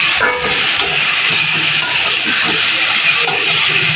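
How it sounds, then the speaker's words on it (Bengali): Marinated chicken goes into hot oil with browned fried onions and sizzles loudly, a steady bright hiss of frying with a few faint clinks close by. "এরপর ম্যারিনেট করে রাখা চিকেনটা তার ভিতর দিয়ে দেবো, দিয়ে কিছুক্ষণ কষতে থাকবো।"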